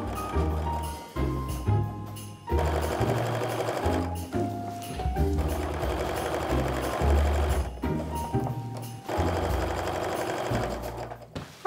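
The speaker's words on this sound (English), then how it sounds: "now we're going to put these through the sewing machine" A sewing machine stitches fabric in steady mechanical bursts, loud and close, with brief pauses between long stretches of fast rhythmic stitching.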